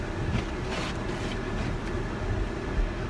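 A car heater set to defrost blows steadily through the vents during a snowy drive, giving a soft, even rush of air at low level with no talk over it.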